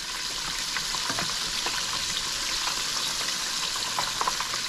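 Chicken pieces deep frying in hot oil: a steady, dense bubbling sizzle with scattered pops and crackles, continuous and close with no talking.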